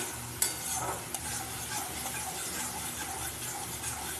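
A spiced fish curry base with salt, turmeric, chili powder and green chili sautéing in oil, giving a soft continuous sizzle with scraping stirring strokes and a sharp clack near the start.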